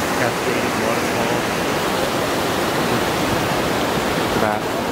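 Cascading waterfall in a dark forest rushes as a steady, dense broadband roar that holds evenly throughout without pause.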